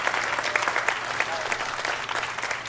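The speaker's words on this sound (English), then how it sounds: "Nice round of applause again for these young people." A crowd at a rally to keep Catholic schools open gives continuous applause for young people. The clapping is steady and moderately loud throughout, with faint voices beneath it.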